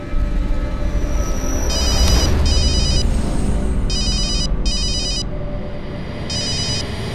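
An electronic phone ring trills in repeated short bursts, five rings with brief gaps, over a steady rumbling background.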